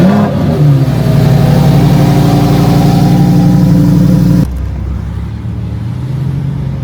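A Lamborghini Huracan engine runs loud and close with a strong, steady harmonic drone and rising revs, then drops abruptly to a lower, quieter idle rumble for the last couple of seconds.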